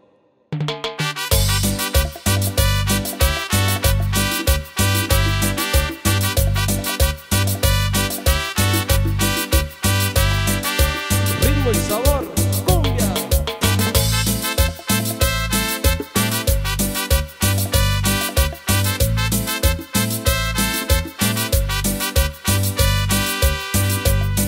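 Live cumbia played on an electronic keyboard by a Chicago keyboardist, with a steady danceable beat, a bright synth melody and a bass line running continuously and loud throughout, no singing.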